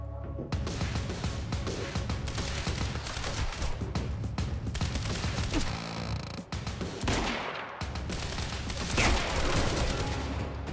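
Dense, continuous gunfire in the video game Quantum Break, rapid overlapping shots and bursts filling the whole stretch with only brief dips, loud and close over a game soundtrack.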